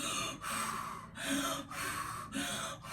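A voice imitates heavy labored breathing of a woman in labor, on all fours on a bed: four loud, rhythmic huffing breaths in quick succession, close and raspy.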